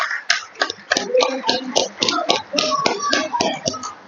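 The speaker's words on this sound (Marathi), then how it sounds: "या सर्व प्रेसिडेंटसाठी परत एकदा जोरदार टाळ्या" Scattered, uneven hand claps from an audience at a Rotary Club of Mukhed City installation ceremony, honoring the club's past presidents; sharp close claps repeat through the whole stretch, with a faint voice in places.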